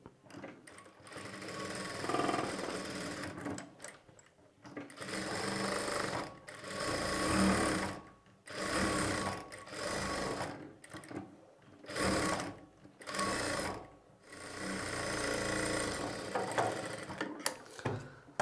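A sewing machine stitches lining onto a princess-cut piece in bursts of whirring runs, each lasting a couple of seconds with brief pauses between, loud and close.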